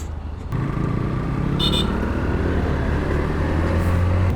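A 2025 TVS Apache RTR 4V FI ABS motorcycle riding along, a steady close engine drone with a low rumble that holds at a constant level after a brief start.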